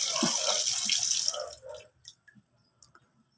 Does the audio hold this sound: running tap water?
yes